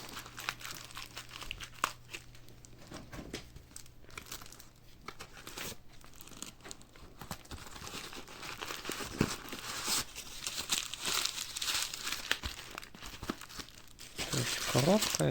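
A plastic-packed parcel is unwrapped, with crinkling and tearing of plastic packaging throughout and growing louder toward the end, while a person talks over it.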